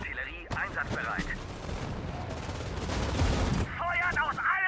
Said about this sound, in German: Artillerie, Feuer!